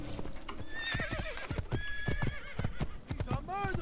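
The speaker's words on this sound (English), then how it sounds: "I need a horse." A horse in the Assassin's Creed video game whinnies several times over clopping hooves, with the game sounds layered under a person talking throughout.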